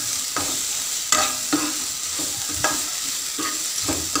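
Mushroom curry masala being stirred in a pan with ghee, a continuous sizzle broken by regular spatula scrapes and knocks, close up with no talk.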